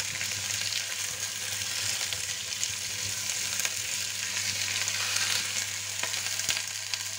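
Turkey osso buco meat sizzles and fries steadily in a hot pan, a close, continuous crackle with faint stirring.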